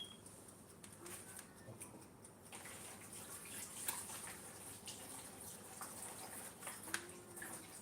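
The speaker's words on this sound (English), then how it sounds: "I didn't off the tap." A kitchen tap left running while Nigerian bitter leaf soup is cooked, giving a faint, steady wash of flowing water with light splashes and drips, distant and quiet throughout.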